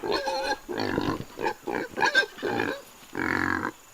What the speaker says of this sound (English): And Athena has been running into the hog pen.